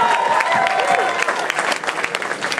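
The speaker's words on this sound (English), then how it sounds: "Make some noise for the DJ." A nightclub audience applauds and cheers for the DJ at a live hip-hop show, with dense, loud clapping and scattered whoops running steadily throughout.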